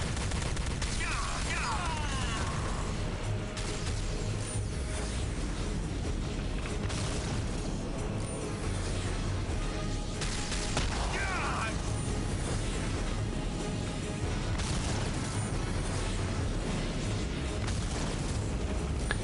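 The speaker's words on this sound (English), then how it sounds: "Goddamn grenade throwing motherfuckers." Grenade explosions and gunfire from Star Trek: Elite Force II rumble continuously through a dense, loud battle din, with a few bursts standing out, while someone talks over the noise.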